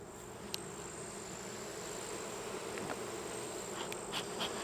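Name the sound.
bees buzzing in a beehive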